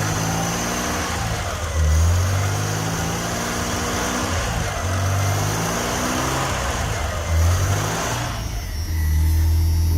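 A barn-find BMW 320 engine runs continuously nearby, its steady mid-pitched drone swelling in a few short revs around two, seven and nine seconds with no talk over it.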